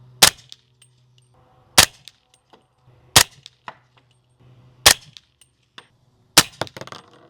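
Suppressed subsonic 300 Blackout rounds from a SIG MCX Rattler LT with a SureFire 300 SPS suppressor, Federal 220 ammunition: five sharp, loud shots spaced about one and a half seconds apart, each a crisp crack with a short tail and faint clatter between.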